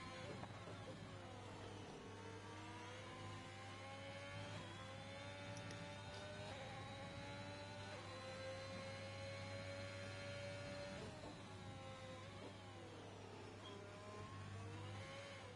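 A Formula 4 race car engine at Imola in a racing video game revs and shifts with a steady high whine that rises and dips through gear changes, continuous and close, with a low constant hum beneath.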